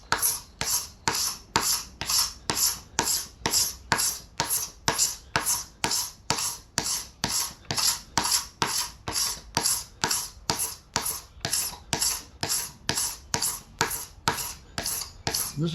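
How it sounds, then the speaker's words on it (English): A tool scraping a thick chunk of cured epoxy over-pour off a wood slab, producing a steady, rapid rhythm of rasping strokes, close and continuous for the whole stretch. "See how long it takes to get this big fat chunk of epoxy off here."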